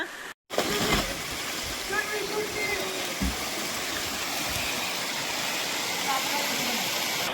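Waterfall at Lingala Gattu near Srisailam, a steady broadband rush of falling water filling the scene, with brief knocks and splashes and faint voices mixed in.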